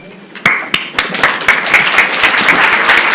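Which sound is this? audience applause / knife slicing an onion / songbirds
audience applause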